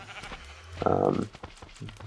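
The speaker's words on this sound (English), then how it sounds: "The sheep spawn egg can now spawn more things than just the white sheep." A Minecraft sheep bleats once, a short wavering baa with game sounds and faint clicks around it.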